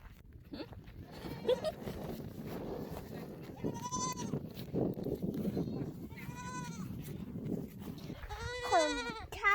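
Goats bleat at a farm, several wavering cries rising over a constant rustling, shuffling background, with a louder, closer bleat near the end and voices murmuring faintly underneath.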